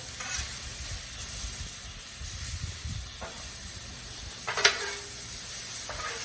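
Stuffed French toast, its apricot filling tucked inside, sizzles on a hot griddle with a steady hissing fry throughout, a few brief clicks and scrapes rising near the middle.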